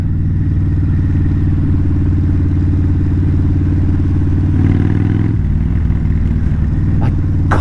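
A Kawasaki VN 1600 Mean Streak motorcycle exhaust rumbles loud and close in a deep, steady idle, rising briefly in a short rev near the end before settling back; no talking.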